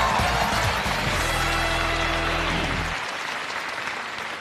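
Studio audience on a Chinese job-seeking variety show breaks into dense, loud applause with a low thumping music beat under it; the beat cuts out near the end and the clapping carries on alone.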